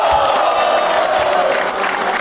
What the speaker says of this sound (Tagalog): naghiyawan yung crowd doon